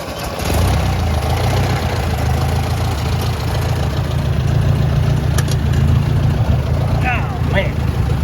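A Ford Jubilee tractor engine cranks and catches, then runs at a steady, loud low rumble close by while people talk briefly over it.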